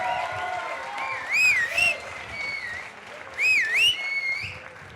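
A crowd at a Databeers Madrid data meetup applauds softly, with two bursts of sharp rising whistles cutting through the scattered clapping and faint cheering.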